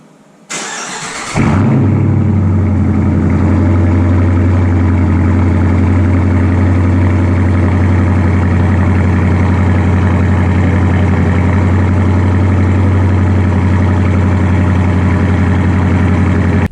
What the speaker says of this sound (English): I'll throw in a cold start here.